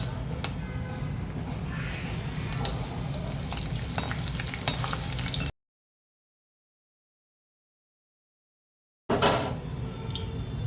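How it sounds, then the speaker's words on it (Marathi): Corn kernels fry and sizzle in hot oil with a steady crackle and occasional stirring, broken by a silent gap of a few seconds before the frying resumes, close and moderately loud. "याच तेलात आपण थोडी मका भाजून घेऊ."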